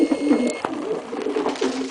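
Soft, low cooing of racing pigeons tending eggs repeats through the short stretch, close by, with faint rustling in the background.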